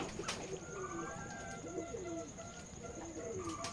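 At a pigeon farm in Keshabpur, Jashore, several pigeons coo in soft repeated rolling calls, fairly faint and overlapping, against a low background murmur.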